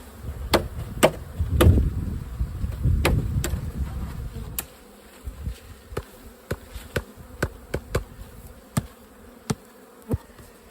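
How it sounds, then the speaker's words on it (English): Honey bees buzzing around a hive where bees are dropping out onto the ground: a low, steady insect hum fills the first few seconds, then thins out, while sharp, regular taps and knocks punctuate the whole clip. "I noticed bees were dropping out of this hive onto the ground"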